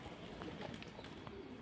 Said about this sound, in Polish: widać, że to ładny gołąbek jest